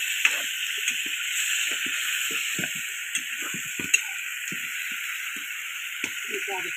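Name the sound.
chicken curry frying and being stirred in pan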